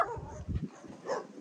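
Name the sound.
dogs brought home, barking and whimpering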